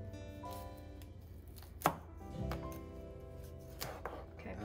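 A knife cuts through a broccoli stem on a board, giving two or three distinct close chopping thuds amid quiet tonal background sound.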